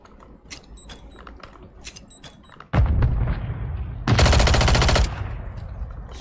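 Rapid video game gunfire played on a controller: a dense burst of automatic shots followed by a louder, sustained rattling volley, with no talk over it.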